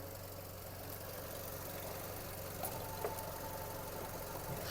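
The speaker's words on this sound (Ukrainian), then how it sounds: "Робота двигуна." A 2009 Volkswagen Caddy Maxi Life engine idles steadily with a low, even hum and faint mechanical ticking, heard alone at moderate distance with no speech.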